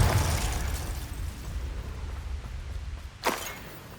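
A Confringo fire spell exploding in the Hogwarts Legacy video game, a rumbling blast that fades into a low roar, followed by a short rising whoosh near the end.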